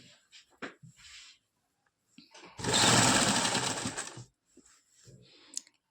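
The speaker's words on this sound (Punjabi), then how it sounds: "ਹੁਣ ਇੱਥੋਂ ਧਿਆਨ ਨਾਲ ਸਲਾਈ ਲਗਾਉਣੀ ਹੈ ਜੀ" Sewing machine stitching the button placket of a collared kurta, a short, close burst of rapid whirring stitches lasting about two seconds, with scattered handling clicks and rustles before and after.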